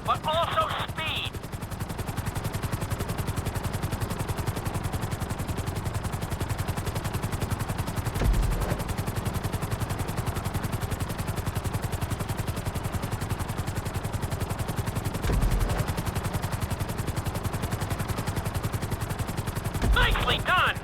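A helicopter in GTA 5 flies a marked training course over the city, its steady rotor chop droning loudly and continuously throughout, with brief electronic beeps near the start and end.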